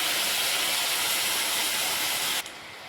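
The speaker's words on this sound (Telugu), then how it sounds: "బెల్లం కరగడానికి కొంచెం పాలు పోసుకోవాలి." Jaggery melting with milk in a hot pan, a loud, steady sizzling hiss close by that stops abruptly near the end, leaving quieter noise, with no voices.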